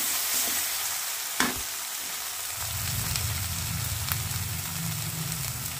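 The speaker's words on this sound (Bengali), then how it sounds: "এবার আমি এগুলোকে ভালো করে একসাথে ফ্রাই করে নেব।" Spinach chicken with masala and salt sizzles steadily in a pan while a spoon stirs it, with a sharp scrape early on and a thicker, louder frying hiss building through the second half.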